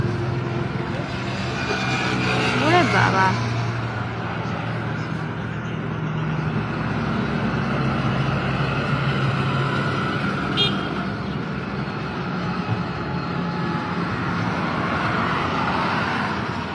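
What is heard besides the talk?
vehicles driving past on the road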